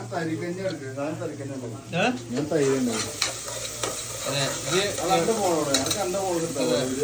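Food fries and is stirred in a pan while cashews and raisins are roasted nearby, steady sizzling with scraping strokes running under continuous close talk from several people.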